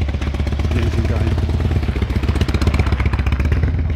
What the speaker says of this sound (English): The engine going.